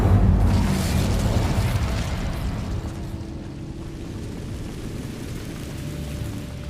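An Incendio fire spell in Hogwarts Legacy erupts in a heavy, booming burst of flame that fades into a long, rumbling crackle and a low hum.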